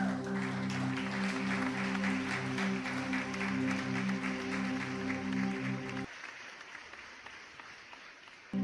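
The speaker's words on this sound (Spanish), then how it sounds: "Un aplauso a las mujeres." A church congregation applauds the women, a sustained wash of clapping over a steady sustained musical tone that drops out after about six seconds, leaving the clapping alone and thinning.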